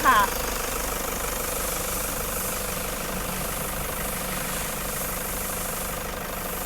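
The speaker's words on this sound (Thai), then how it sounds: "ตอนนี้เราสตาร์ทเครื่องยนต์อยู่นะคะ คุณลูกค้าฟังเสียงเครื่องยนต์ได้เลยค่ะ" A Toyota Commuter van's engine idles steadily and close by, giving a continuous even hum with a brief louder burst at the very start.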